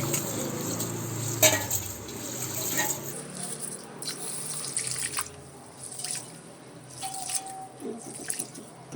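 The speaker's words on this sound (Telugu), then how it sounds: "ఇవి ఇప్పుడు బాస్మతి బియ్యము 2-3 సార్లు వాటర్ వేసి కడుక్కుందాము." Basmati rice is rinsed in water, with splashing, trickling and dripping sounds and scattered clinks of a vessel, moderately close and without talk.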